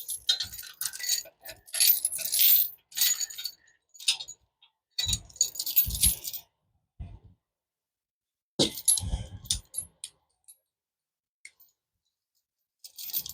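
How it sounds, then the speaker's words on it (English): A metal chain rattles and clinks in bursts while being wrapped around a mower part and hooked, irregular jangling close by with pauses between handlings. "I'm going to go back another couple of links here to where I can get this chain wrapped around this and hooked."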